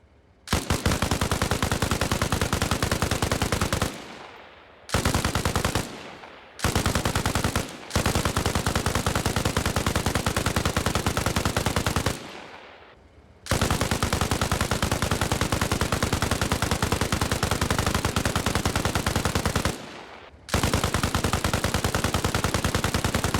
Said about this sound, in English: we'll test how the light machine gun goes against the BTR